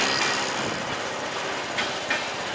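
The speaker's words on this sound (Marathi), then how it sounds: "आणि ही बघा ही कोकण रेल्वे." A Konkan Railway train rumbles past nearby in Raigad district, with a broad, steady roar and a couple of brief rattling clacks toward the end.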